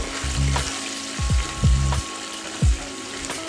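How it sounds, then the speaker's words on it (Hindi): Onion pieces fry in hot oil for a quick breakfast snack, giving a steady close sizzle broken by low thumps and scrapes of stirring. No one speaks. "और अब हम इसमें डाल देंगे प्याज और इसको भी भून लेंगे ब्राउन होने तक।"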